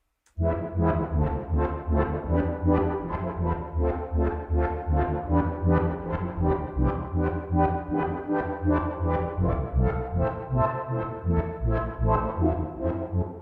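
A reversed sample with crush, filter and reverb repeats in steady rhythmic pulses, crunchy, gritty and filtered with a reverberant wash, loud and continuous with no voices.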